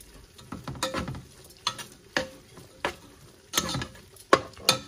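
Chaat masala being stirred into sweet corn with a spoon: close, uneven scraping strokes that come in quick bursts, with short pauses between them and no talking.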